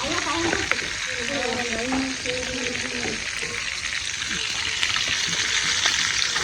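Shrimp fry in hot oil with a steady, bright sizzle that fills the whole stretch, while a voice speaks briefly over it early on.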